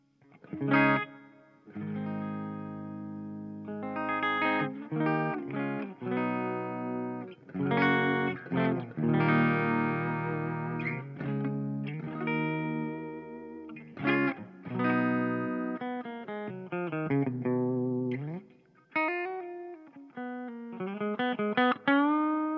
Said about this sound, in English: So this is the clean sound, and I'm only using a bit of spring reverb.